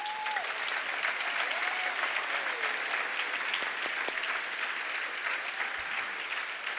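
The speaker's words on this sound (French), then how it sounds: "On peut applaudir les bons pères." A crowd applauds steadily, a dense wash of clapping with faint whistle-like tones and a few louder claps standing out.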